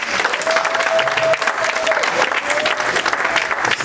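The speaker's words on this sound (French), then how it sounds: "Nous pouvons quand même acclamer pour l'encourager" Conference audience applauding the sound engineer, a full burst of hand clapping from a seated crowd that stays loud and dense throughout, with some voices mixed into the applause.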